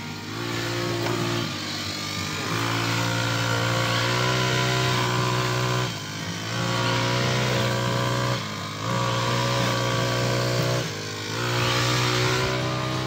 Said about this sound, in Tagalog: nag-grass cutter dito sa labas